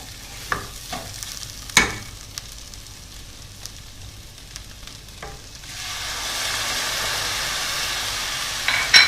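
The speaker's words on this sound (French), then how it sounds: "et là je vais rajouter donc mon vin blanc" After a few scattered utensil clicks and taps, white wine hits a hot pan and a steady broad sizzle rises and holds, followed by a final sharp knock close by.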